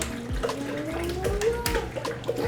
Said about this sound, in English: pour a little bit of water in there, KJ.